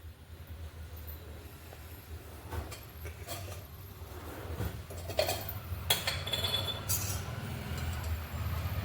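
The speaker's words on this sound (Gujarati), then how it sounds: "એના ઉપર મૂકી દઈએ આપણે કઢાઈ" A metal wok clanks and rattles as it is set on a gas stovetop in a few scattered knocks and clinks, with kitchen background noise.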